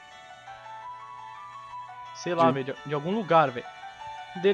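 A musical ringtone from a phone in the Wii game The Calling plays steadily as a soft melody, while someone talks over it for much of the clip.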